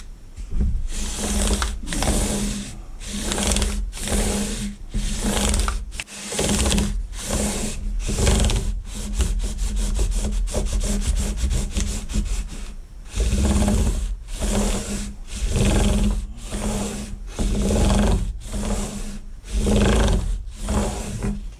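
Frets on an electric guitar neck are flattened with repeated rasping strokes in a steady back-and-forth rhythm, each burst lasting about a second with short gaps. The sound is close and fairly loud, with no speech.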